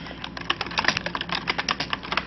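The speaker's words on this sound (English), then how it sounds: "you guys are going to hear me typing real quick" Rapid typing on a computer keyboard, a dense stream of close, uneven key clicks with frequent louder taps and no talk over it.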